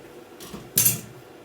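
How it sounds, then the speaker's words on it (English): A metal utensil scrapes and clinks against a skillet as sweet Italian sausage pasta is served into a dish. There is a soft scrape, then a single sharp clatter, all close and brief. "I'm going to dish some up in the dish"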